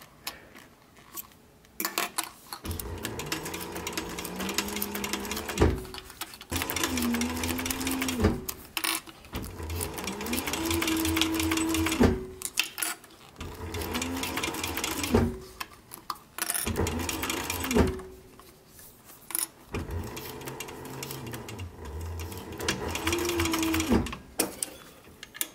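Slow runs of a sewing machine stitching a cap brim, each whirring burst rising in speed then stopping, repeated several times with short pauses between, close and steady.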